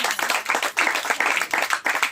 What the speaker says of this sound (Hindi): एक बार ताली से आप स्वागत कर सकते